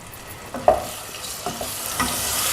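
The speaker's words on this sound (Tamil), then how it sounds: "அந்த பேஸ்ட்டை இதில் போட்டு பச்சை வாசனை போகிற வரைக்கும் வதக்கணும்" Paste of ground onion, ginger, garlic, cashew and green chilli being stirred and sautéed in a hot pan, a steady sizzle with a few scraping stirs, close and alone.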